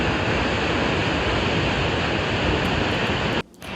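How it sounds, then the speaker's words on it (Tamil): Spahats Falls, a waterfall in Canada, roars as a dense, steady rush of falling water, loud and constant, then drops away sharply near the end. "இந்த ஸ்பாஹெட்ஸ் ஃபாலை பார்க்கும்போது நம்ம வந்து அருவியை மட்டும் பார்க்குறதில்ல"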